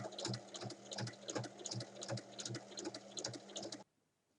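Sewing machine stitching along the base of a fabric bag, a quick rhythmic mechanical clatter of repeated needle strokes up close, stopping abruptly near the end.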